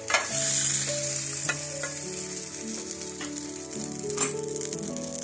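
Fried shallots and curry leaves in hot oil sizzle loudly as they are poured into a dal curry, a steady close crackling hiss that stays strong throughout.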